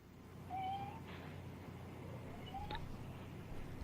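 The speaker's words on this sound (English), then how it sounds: "That would be the kitten." A kitten meowing in the background of a podcast, two faint, rising mews about two seconds apart against a low room hum.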